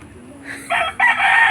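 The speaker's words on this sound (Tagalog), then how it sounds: "Magpakain na ulit tayo ng ating maalagang manok." Chickens cluck loudly nearby, rising into a rooster's crow, with faint background murmur.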